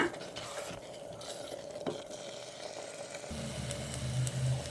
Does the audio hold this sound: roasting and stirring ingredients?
yes